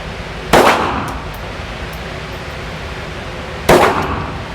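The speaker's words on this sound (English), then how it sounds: "go ahead and fire all 10 rounds" Two sharp, loud gunshots ring out a few seconds apart, each a sudden crack with a short decaying tail, from a handgun fired at a range target.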